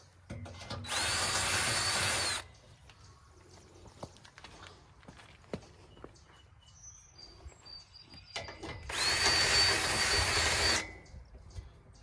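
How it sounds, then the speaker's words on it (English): A cone drill bit deburring drilled holes in a metal trailer-mount rack for backpack blowers whines in two loud, steady bursts of about two seconds each, separated by quiet workshop handling noises. "Just so there's no burrs. Just a little cone drill"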